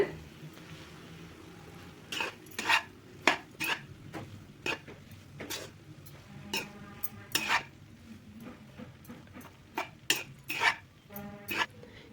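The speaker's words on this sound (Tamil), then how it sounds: "எல்லாமே சேர்த்துட்டு அடுப்பை வந்து சிம்மில் வச்சுட்டு கலருங்க" Rice and chicken being stirred in a pan over a low flame: repeated sharp metal clinks and scrapes of a spoon against the pan, with a faint sizzle underneath.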